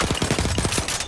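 Rapid automatic fire from the Automatico machine gun in the World War I shooter Battlefield 1: a fast, steady string of sharp bursts, loud and close, with no talking.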